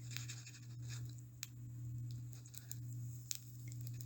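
Pencil or pen scratches softly across paper in short, faint strokes over a steady low hum, with a couple of sharper taps; nobody speaks.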